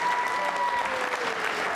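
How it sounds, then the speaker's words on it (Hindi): An audience at a quiz show applauds a winning contestant, sustained, dense clapping that fills the whole stretch, with a faint held tone and murmured voices underneath. "नीना जी के लिए तालियां जोरों से बजाइए आप।"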